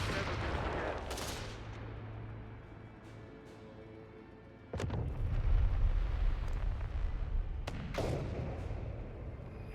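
Artillery guns fire in the World War II strategy game Company of Heroes 3. Two heavy booms stand out, the first followed by a sustained louder rumble, over an ongoing bed of battle noise.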